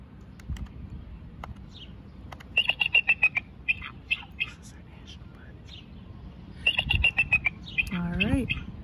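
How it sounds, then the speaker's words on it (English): A bald eagle's call comes as two bursts of high, thin, chittering whistled notes in quick series, separated by a lull. Faint rustling and a soft, breathy voice are heard near the end. "This is the eagle, and let's make the sound."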